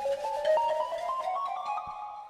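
A mobile phone ringtone plays a bright, repeating electronic melody, fairly loud and close, looping steadily for a couple of seconds with no talking over it.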